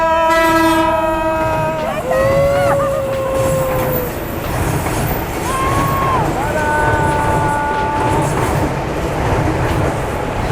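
A train roars past loudly with blaring horn blasts at the start and again later, over continuous rumbling and clatter of the wheels.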